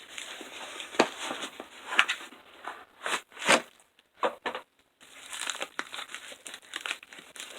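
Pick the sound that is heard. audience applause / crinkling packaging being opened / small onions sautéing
crinkling packaging being opened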